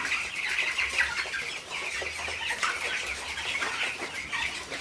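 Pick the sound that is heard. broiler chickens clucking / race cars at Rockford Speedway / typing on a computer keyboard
broiler chickens clucking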